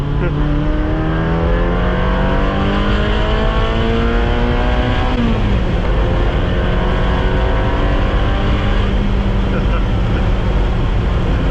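A small-displacement, high-revving Ferrari engine sings loudly and steadily, its tone climbing through the revs, dipping briefly and then rising again, close up and continuous with no speech.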